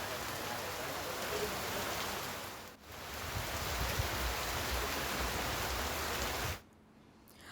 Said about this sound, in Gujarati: એકાએક વાદળ એક કાળા ડિબાંગ વાદળોથી ઘેરાઈ ગયો અને ત્યાં વરસાદ વરસવાની શરૂઆત થાય છે।